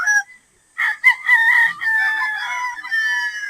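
A Lemon Sweater straight-comb gamefowl stag crows loud and near, one drawn-out call following a couple of short clucks, with faint background noise.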